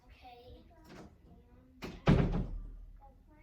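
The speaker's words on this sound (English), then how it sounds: "Shut the door, please." A door is shut indoors with a close, solid thud and brief rattle, following faint indistinct voices in the room.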